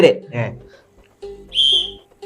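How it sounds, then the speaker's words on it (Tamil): A short, shrill whistle blast rings out once, close by, after a few brief spoken words. "இது என்னோட கம்மியா வருது விசில் சத்தம்"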